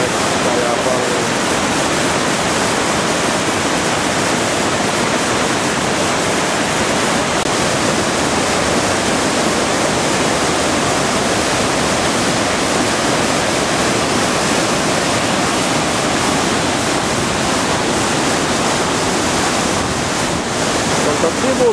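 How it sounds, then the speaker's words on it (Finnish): Hepoköngäs waterfall in high water roars as a loud, unbroken broadband rush filling the whole stretch, steady and close with no pauses. "Koko uoman leveydeltä vettä ja paljon."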